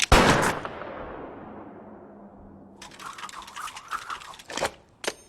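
Gunfire in the Commodore 64 Western game Law of the West: a harsh burst of electronic noise that fades away, then a run of crackling shots and two more sharp bursts.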